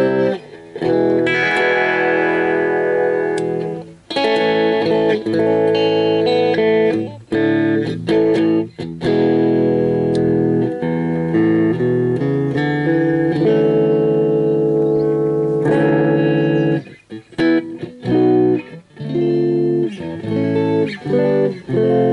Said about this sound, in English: you can hear the clean if you take the gain right off